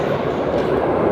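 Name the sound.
subway train at Kelvinbridge subway station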